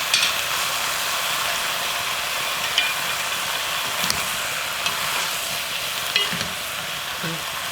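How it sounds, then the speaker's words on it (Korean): Kimchi stir-fried with pork and onion in a pot for kimchi stew, a steady close sizzle and frying hiss with occasional scrapes and clinks of a spoon stirring, no talk over it. "이렇게 김치를 같이 넣고 다시 한 번 볶아"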